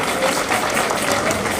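An audience at a grand function applauds in honour of a founder chairman, a dense, steady wash of clapping that fills the short stretch without a break.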